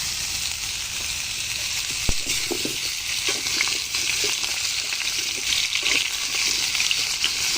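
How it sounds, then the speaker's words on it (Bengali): Vegetables sizzle and fry in a pan over an outdoor clay stove, a loud, continuous crackling hiss broken by a few soft clinks and scrapes of stirring, with no one talking. "এখন এই বাকি তরকারিগুলো দিয়ে দিচ্ছি, এসব দিয়ে ভালো করে ভেজে নেব।"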